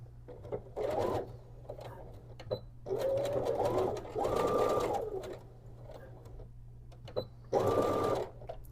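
A sewing machine stitches a line on a fabric shoulder bag in several short bursts of rapid mechanical whirring, separated by brief pauses and soft handling noises, close up.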